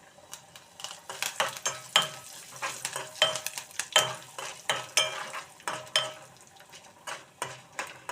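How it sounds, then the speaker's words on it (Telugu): Curry leaves and broken dried red chillies sputter in hot oil as tempering for a coriander chutney, close crackling pops and utensil scrapes coming in uneven bursts over a faint background sizzle. "కొంచెం కరివేపాకు కూడా వేసుకుందామండి."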